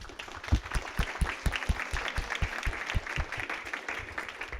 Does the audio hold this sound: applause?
yes